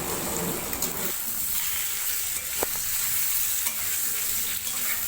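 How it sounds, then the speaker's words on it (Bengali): Potato and taro pieces fry in oil in a pan with a loud, continuous sizzle close up, occasionally stirred with a scraping utensil. "এই দেখো, আস্তে আস্তে আমি ভাজছি।"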